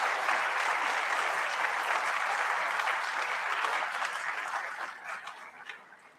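Sustained applause from a conference audience at a management conclave, a dense steady clatter of many hands that holds evenly for several seconds, then thins and tapers off toward the end.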